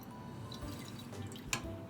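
Water poured into a pan already holding orange juice, Chinese cooking wine and star anise, giving a brief soft splash and trickle with a small drip-like spike near the end, faint and close with no talking.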